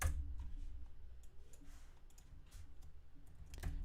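Keys on a computer keyboard are tapped in quick, irregular bursts, quiet and close, over a low constant room hum, with no voices.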